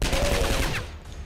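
Rapid gunfire from the turn-based strategy video game Skyshine's Bedlam, a dense burst of repeated shots for under a second, then a quieter tail as the volley fades.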